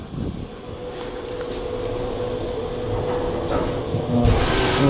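Kone EcoDisc scenic elevator machinery, malfunctioning, trying to start: a steady mechanical hum and whir with faint ticking and clicking, close and continuous, rising slightly toward the end.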